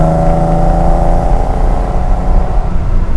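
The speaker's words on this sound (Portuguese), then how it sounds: "Olha a vitalidade desse motor." A BMW 635 CSi Hartge engine revs loudly and steadily, a deep continuous rumble with a whirring edge, close by and with no one talking.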